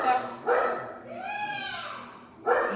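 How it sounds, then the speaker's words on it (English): A dog barks and yelps in a home setting, with a couple of bright bursts at the start and end and a drawn-out whining tone between them, heard up close with speech-like sound around it. "the dog's barking now"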